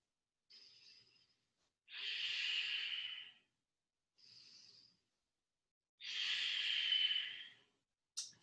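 Slow, deep breathing during a yoga pose: breathy inhales and longer exhales alternate in a steady, unhurried rhythm, close and clear against near silence, without talking.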